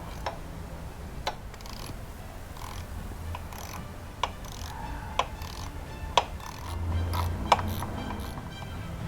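A ratchet loosens the thermostat screw on a Benelli TNT or TRK motorcycle, producing sharp isolated clicks every second or so over a low hum in a quiet workshop.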